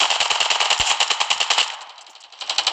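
Fast, evenly spaced shots from an automatic rifle in the mobile shooter Standoff 2 rattle out in a steady stream, briefly fading before another short burst at the end.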